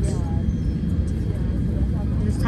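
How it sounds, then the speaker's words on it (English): Airplane cabin on a flight to Los Angeles before takeoff, a steady, loud low engine and ventilation roar filling the space, with faint chime-like tones near the start and end. "we're on airplane back to Los Angeles."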